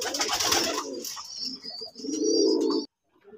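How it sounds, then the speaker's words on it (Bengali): Red-headed white desi gola pigeons coo close by in soft, throaty rolling calls, joined by a few thin chirps before the sound cuts off abruptly. "লাল অসাধারণ এক জোড়া গোল্লা কবুতর বিক্রি হবে।"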